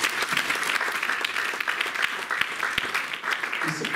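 A church congregation at a summer camp service claps for Jesus Christ, dense sustained applause from many people with sharp individual claps standing out, filling the whole stretch.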